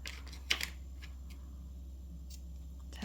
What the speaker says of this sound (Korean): 자, 이렇게 자르시고